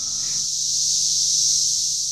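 Cicadas in an infestation buzz in a steady, loud, continuous high-pitched drone with no breaks.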